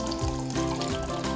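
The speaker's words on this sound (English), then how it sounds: "we're going to put some water in there from the kettle" Water pours from a kettle into a pan of rice, a close, steady splashing gurgle with rising bubbly tones, continuous for just over a second.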